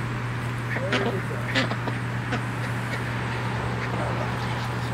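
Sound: Rouen ducks quacking

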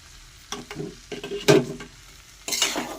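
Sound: stirring ghee and garam masala in a pan

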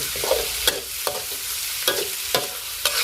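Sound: pork pieces stir-frying in a pan

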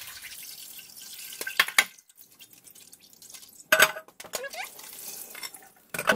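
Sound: rinsing raw crabs with vinegar water

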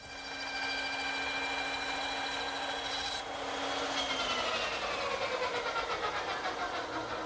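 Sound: hand dovetail saw cutting wood tenon shoulders

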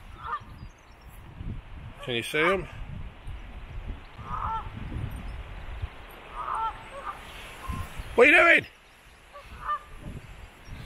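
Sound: geese honking

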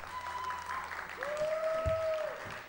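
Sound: audience applause after a live song

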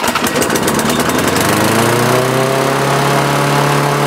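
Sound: lawn mower engine started after diaphragm repair

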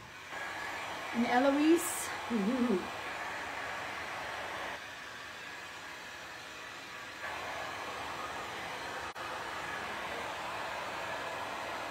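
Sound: hair dryer drying a painting

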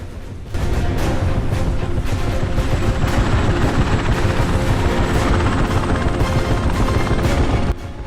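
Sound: helicopter flying

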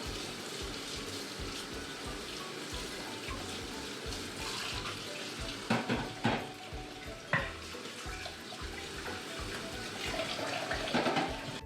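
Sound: eggs being washed under running water

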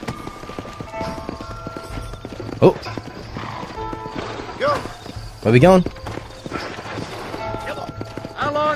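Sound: horse galloping and neighing in video game Red Dead Redemption

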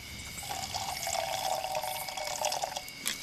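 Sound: water poured from a canteen

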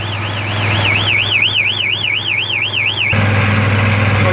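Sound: alarm sounding

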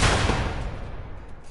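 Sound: gunfire from the video game Mad Max

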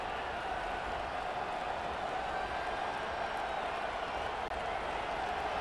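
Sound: stadium crowd cheering in video game

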